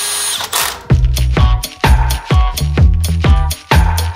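A cordless drill drives a screw into a bicycle part in repeated short bursts, each whir starting with a sharp rise and cutting off abruptly, close and loud with no talking.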